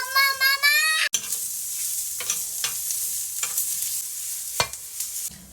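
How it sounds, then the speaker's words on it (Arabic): Sausages sizzle in a pan with sautéed onion, a steady, close frying hiss with a few louder crackling bursts throughout; a brief tonal sound comes just before the sizzle begins. "بعد ما البصل يتشوح شوية حطوا بقى حطوا سوسيس"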